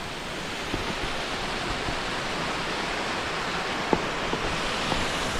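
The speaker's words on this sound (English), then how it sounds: "down by that waterfall." Banjara waterfall near Kasol, Himachal Pradesh, pours in a steady, dense roar of falling water from close by, with a few faint clicks on top and no voices.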